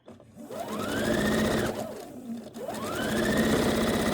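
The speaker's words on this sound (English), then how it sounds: "I'll sew this little thing together, and I'll have another 4 patch made" Sewing machine stitching cotton quilt patches into a four-patch block, running in two sustained bursts with a rising whine as it speeds up, close and loud, with a short pause between runs.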